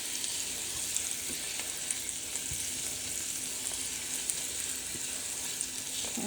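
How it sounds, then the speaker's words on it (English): Spinach sautés in a pan for a spinach cheese omelette, giving a steady close hiss and crackle of frying with occasional faint clicks of stirring and no talk. "This looks like it's sauteing very, very well, and it looks like it's very wilted."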